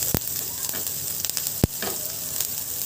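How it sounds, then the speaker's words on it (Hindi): Onions frying lightly in a pan: a soft, steady sizzle with a few faint clicks and one sharp tap, heard quietly and alone. "तो देखिए, ज़्यादा प्याज को हम भूनेंगे नहीं"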